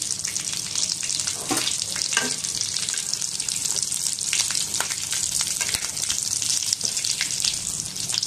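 Aloo chop, mashed potato croquettes, frying in hot oil, a steady close sizzle throughout with occasional bubbling bursts and faint stirring clinks.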